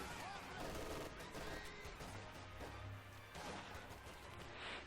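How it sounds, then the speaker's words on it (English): Gunfire and explosions in a Company of Heroes 2 match between American and German forces, with a sniper among the shooters, fairly faint, steady and layered over a continuous rumbling battle background. "Sniper coming in, just sniping away."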